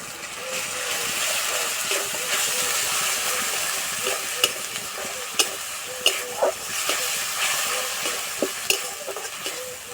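Grated tomato sizzles and spits in a hot pan with ginger-garlic paste for a Bengali aloo dum with peas, a steady frying hiss broken by sharp scraping stirs and clicks of the spoon.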